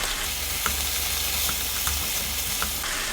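Butter sizzles and fries with beef fried rice in a pan, a steady close crackle and hiss with faint stirring clicks and no talking.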